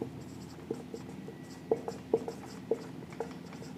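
Pen scratching and tapping on paper while writing out accounting entries, soft and close, in a quiet room with small irregular ticks.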